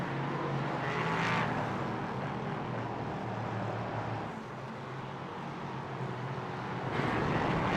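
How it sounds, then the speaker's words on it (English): Race cars roll out at Brands Hatch behind an iRacing safety Porsche, with a steady engine drone and rumble, a brief louder swell early and another near the end. "We're going to roll out behind our iRacing safety Porsche."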